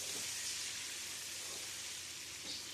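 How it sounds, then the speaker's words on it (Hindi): Meat frying in spice masala for yakhni pulao, a soft steady sizzle and crackle heard close but quiet, continuous with a slight swell near the end. "इस गोश्त को हमने इस मसाले के साथ अच्छी तरह से फ्राई कर लेना है।"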